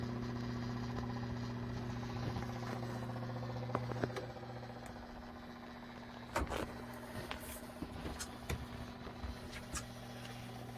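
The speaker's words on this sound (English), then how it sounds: "This is the little motor that's rotating." The small rotating motor inside an egg incubator gives a low, steady hum that fades partway through, with a few faint clicks and taps on top.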